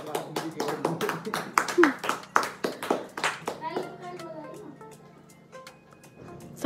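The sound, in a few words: people clapping at an anniversary party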